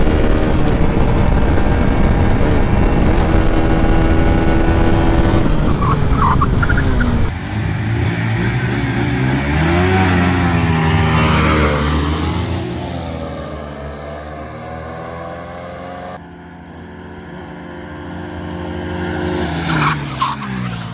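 Motorcycles in a drag race, a TVS Apache 160 4V, Xtreme 160R and Pulsar NS160, roar hard off the launch, their engines loud with rising, sweeping pitch as they accelerate and shift, then ease off, with no speech.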